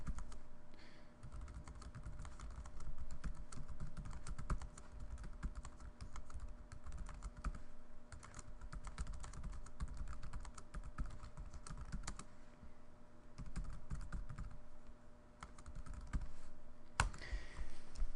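Steady typing on a computer keyboard, a close, continuous patter of quick key clicks with brief pauses and no voices.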